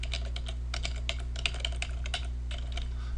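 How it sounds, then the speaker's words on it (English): Rapid, uneven clatter of fingers typing on a computer keyboard while entering a folder and file name for a PHP include statement, steady key clicks over a constant low electrical hum, no voices. "Type the name of the folder"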